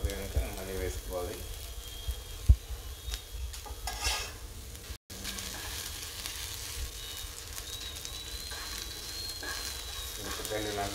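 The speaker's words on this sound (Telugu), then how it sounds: "ఎండమిరపకాయలు తర్వాత కొబ్బరి పొడి వేసుకోవాల్సి ఉంటుంది. ఆయిల్ సరిపోయి కనుక మళ్ళీ వేసుకోవాలి." Dry red chillies and coconut powder fry in hot oil on a stove, giving a steady close sizzle throughout with a sharp clink near the start and brief stirring scrapes.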